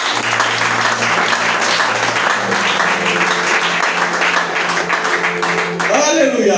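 Loud congregation applause and cheering for Jesus Christ at a Christian church service, a steady dense roar of clapping and voices that swells briefly near the end.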